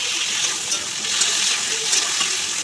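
Potatoes dropped into hot mustard oil in a wok sizzle with a bright, hissing crackle, steady and close throughout with small surges as the pieces settle.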